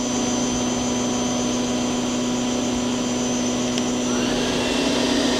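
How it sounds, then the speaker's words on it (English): A Miyano BND-34T5 CNC turning center spindle runs at speed, a loud steady whine with a constant high tone over machine hum, rising slightly near the end. "I'm gonna run it for you. The spindle right now is running at 500 RPM."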